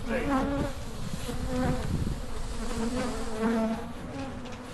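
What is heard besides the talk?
bees buzzing around a big hive in a horse stall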